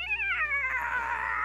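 A person imitates a cat, giving one drawn-out, wavering meow that slides downward and trails off into a breathy rasp. The voice is close and clear and there is no other talk.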